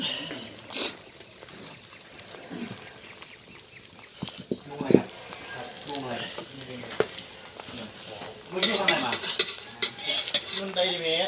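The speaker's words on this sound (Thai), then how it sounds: "ข้าวผัดข้าวคลุกกะปิ หมุนหมุนหมุน" Rice and shrimp paste are stir-fried in a pan, giving a crackling sizzle with repeated scraping and clinks of a spatula, louder toward the end, while people talk nearby.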